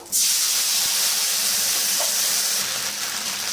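A sudden loud burst of hissing as water hits hot oil with panch phoron spices, settling into a sustained steamy sizzle.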